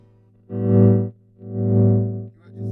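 Electric guitar played through an old-school valve amp, with a growling, distorted tone: two sustained swelling notes ring out one after another and fade, with the start of a third at the end, loud and close with no talking.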